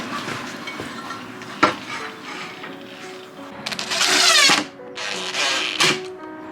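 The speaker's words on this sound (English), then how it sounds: "We're just screwing it on to test it, as opposed to gluing it on first go." Screws driven in to fit a Lagun table mount inside a van, with close ratcheting and drill-like whirring bursts, sharp knocks and a louder sustained grinding spell near the end.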